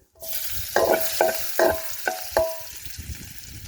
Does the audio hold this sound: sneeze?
no